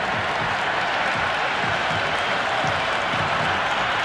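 A cricket crowd at a Sri Lanka versus England T20 match cheers and applauds a six, loud continuous clapping and roaring that fills all four seconds without a break.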